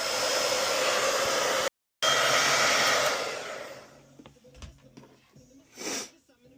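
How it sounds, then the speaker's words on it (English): A household blow dryer used as a heat source to soften adhesive during an iPad A2602 digitizer repair roars loudly and steadily for about three seconds with a brief cut, then fades out, leaving faint handling noises and breathy sounds. "the blow dryer works better"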